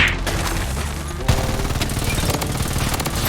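Rapid automatic gunfire in the shooter game Blood Strike, a dense sustained burst of shots with a sharper bang near the middle, loud and continuous throughout.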